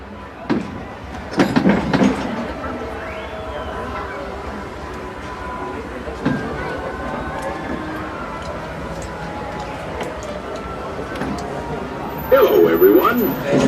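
Disneyland Railroad train on the Main Street USA line at Disneyland, a steady rumble of railcars rolling along with a few louder clanks and wheel bursts near the start and end, under an ongoing announcement voice.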